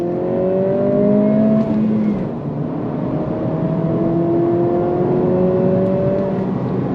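A 2025 Acura Integra A-Spec accelerating on throttle, steady engine drone rising in pitch through successive gears with a brief dip at a shift, heard from inside the car.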